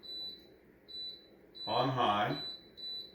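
Electric pressure cooker beeping as its timer is set for beef birria on high pressure, giving short repeated electronic tones around a burst of nearby speech.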